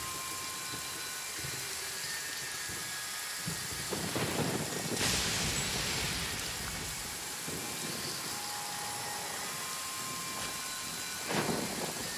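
Heavy downpour in a video game, a dense steady roar of rain with rumbles of thunder swelling in the middle and again near the end.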